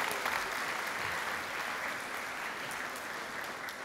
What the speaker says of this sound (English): Round of applause for Jessica.